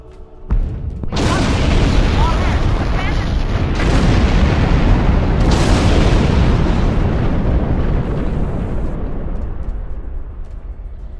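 Huge starship explosions boom out in the Star Trek Online space battle, a series of loud, rolling blasts that roar continuously for about ten seconds, with deep rumbling and crackling debris and no speech.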